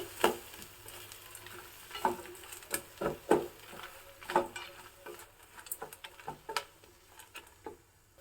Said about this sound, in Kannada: ಇದಕ್ಕಿವಾಗ ಒಂದು ಅರ್ಧ ಕಪ್ ಆಗೋಷ್ಟು ತೆಂಗಿನ ತುರಿ ಹಾಕಿದ್ದೀನಿ ಇದನ್ನು ಸಹ ಸ್ವಲ್ಪ ಫ್ರೈ ಮಾಡ್ತಾ ಇದ್ದೀನಿ